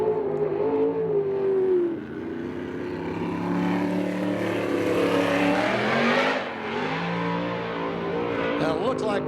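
A USAC/CRA sprint car roars around the Tucson oval during a timed lap, its loud engine droning steadily with pitch sweeps as it accelerates and backs off, while an announcer talks over it.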